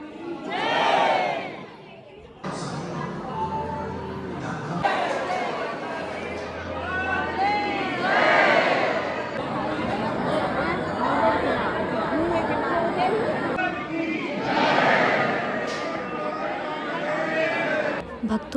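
Dense crowd of devotees at Dwarkadhish temple in Vrindavan, a roaring mass of chanting and shouting voices that swells in loud collective cries several times, steady throughout.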